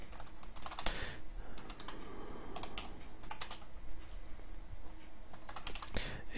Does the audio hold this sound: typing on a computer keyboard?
yes